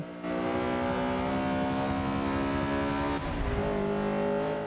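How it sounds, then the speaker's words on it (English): A Honda Civic CRX Mugen engine held at full throttle in Forza 5, a loud, steady high-revving drone with a strong harmonic whine that briefly dips, as if shifting, then climbs again. "Alright, full throttle down the straight."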